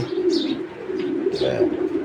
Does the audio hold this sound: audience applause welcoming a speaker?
no